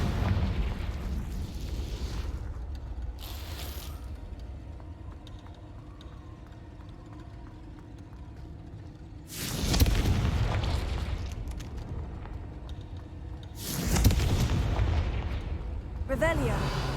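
Confringo fire spell blasts in the video game Hogwarts Legacy: two loud booming explosions, each followed by a rumbling tail, over continuous game ambience and a voice.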